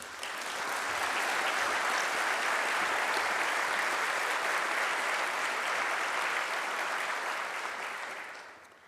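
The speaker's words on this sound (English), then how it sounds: "I think we owe them a big round of applause." Audience applause at the 2014 Symons Medal Lecture, a full hall clapping in a dense, even wash that swells in, holds steady for several seconds and fades at the end, with no talk over it.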